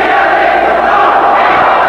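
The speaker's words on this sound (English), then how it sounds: "There's the Blue Babbling Battalion cheering for the Ateneo." Ateneo supporters roar at a 1985 UAAP college basketball game between UE and Ateneo, a loud, dense, sustained crowd cheer that fills the arena without a break.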